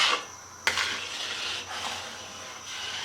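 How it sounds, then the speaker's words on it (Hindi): A spoon stirs carrot and rice kheer boiling in a pot, giving close, repeated scraping and clinking against the pot with soft bubbling between strokes. "चम्मच इसमें आपने चलाते रहना है, वरना ये नीचे से इसके साथ लगना शुरू हो जाएगा"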